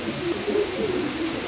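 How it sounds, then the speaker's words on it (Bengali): Pigeons cooing nearby, a continuous low, throaty, rolling coo with several swelling phrases repeating over a constant background, no voices. "দুটো কবুতরই মাশাআল্লাহ দেখার মতন"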